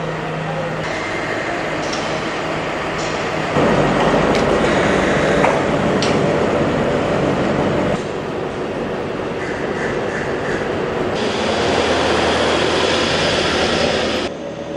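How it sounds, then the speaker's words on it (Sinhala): A train rumbles through Colombo Fort railway station, loud and continuous for the whole stretch, with wheel clatter and shifting engine tones swelling and easing, and no talk over it. "මේ අදුදැස්සන කොළඹ කොටුව දුම්රිය ස්ථානයේ තත්ත්වයයි."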